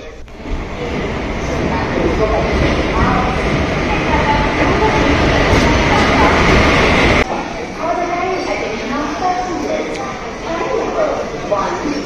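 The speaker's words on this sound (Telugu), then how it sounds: "మనం ఇప్పుడు వెళ్ళేది శేషాద్రి ఎక్స్ప్రెస్, ట్రైన్ నెంబర్ 17210, అదే ఇప్పుడు వెళ్ళేది మనం." Seshadri Express passenger train, number 17210, in motion in India, with a loud steady rumble of wheels and carriage noise that drops somewhat partway through, while people talk nearby.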